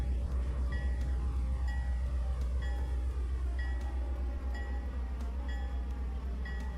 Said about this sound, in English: If you ever hear a train depart and it blows its horn twice, that means it's ready to go forward